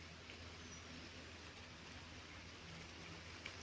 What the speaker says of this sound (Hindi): पर बारिश तो हो रही है।